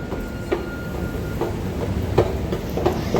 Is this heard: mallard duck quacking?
no